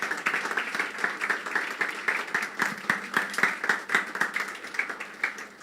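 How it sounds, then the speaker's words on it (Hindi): A church congregation claps loudly for Jesus, a brisk, even rhythm of many hands striking together in time, fairly close and unbroken for several seconds. "यीशु के लिए हम ज़ोरदार तालियां बजाएंगे"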